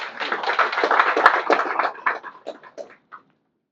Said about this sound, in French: je vous invite à les applaudir encore